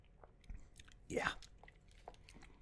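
Crunchy chewing of a reduced-sugar chocolate and peanut butter snack, a few close, soft bites with one louder crunch in the middle, set against quiet room tone.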